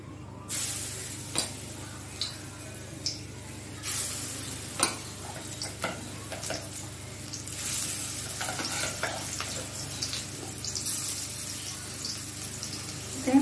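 Banana-flower koftas frying in oil in a pan, a soft, steady sizzle broken by scattered clicks and light stirring taps, fairly quiet and without talk.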